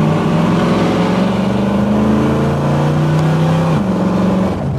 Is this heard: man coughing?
no